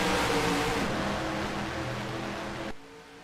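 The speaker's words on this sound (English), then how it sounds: "You hear the cars come to life here on the restart." Race cars roaring back up to speed on a restart at Talladega Superspeedway, a dense, sustained engine rumble and rush that stays loud for most of the moment before dropping off sharply near the end.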